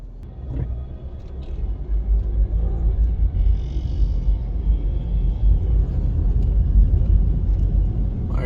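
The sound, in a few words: car driving from Half Way Tree to Devon House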